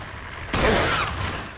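After a brief quiet moment, a single sharp gunshot in the video game Resident Evil HD Remaster bursts out loudly and its booming echo trails off over the next second.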